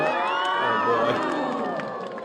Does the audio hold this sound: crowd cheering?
yes